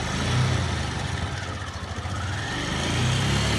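Motorcycle engine during a practice ride, a steady mid-pitched engine drone close by that dips slightly and then builds again.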